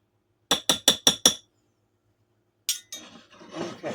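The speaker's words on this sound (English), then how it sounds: "I like to stir my yeast in and let it get all happy." A spoon stirring yeast in a glass gives five quick, bright clinks in an even rhythm. After a short silence comes a looser run of softer knocks and rustling.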